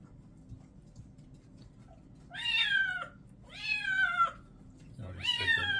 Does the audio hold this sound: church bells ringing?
no